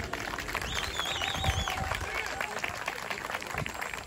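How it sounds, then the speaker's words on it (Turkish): Audience applause at an outdoor village event with gendarmerie and local officials, steady dense clapping at moderate distance, with crowd noise and faint voices underneath throughout. "Alkışlar yetersiz gelmiş."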